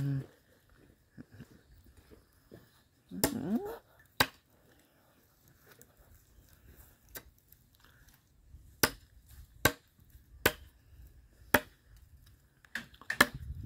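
Small dead wood being chopped outdoors, sharp isolated whacks landing at irregular intervals, fairly close, with quiet gaps and faint background sounds between strikes.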